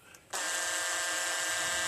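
An electric drill whirs steadily, boring a hole for a pad eye through a kayak hull as part of an anchor trolley install; the motor starts abruptly and runs at an even, close pitch.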